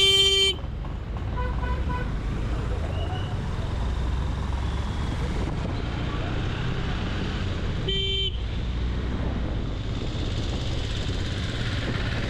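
Busy roadside traffic near Indapur on the Mumbai–Ratnagiri route, a steady loud rumble of passing vehicles with two sharp car horn blasts, one at the start and another about eight seconds in.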